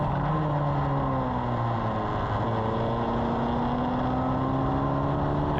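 A Formula Ford race car engine revs hard as it accelerates off the start with wheel spin, a loud, steady onboard drone rising in pitch, with other race cars droning alongside.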